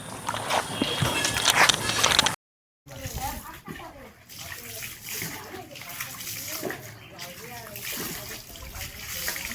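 Water splashing and pouring while someone bathes, a steady wash of close splashes and trickles with a short silent break, under occasional speech.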